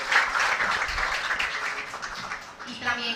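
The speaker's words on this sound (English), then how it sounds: "let's give him a round of applause for this tremendous strategy" An audience at a brand launch event breaks into applause, a dense wash of clapping that fades toward the end as a voice starts to speak.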